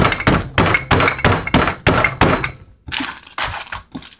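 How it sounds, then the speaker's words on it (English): A rolling pin crushes food sealed inside doubled resealable plastic bags, making a rapid series of loud, close thumps and crunches in an irregular rhythm, with a brief pause before several more blows. "take a trusty old rolling pin and just crush them up that way."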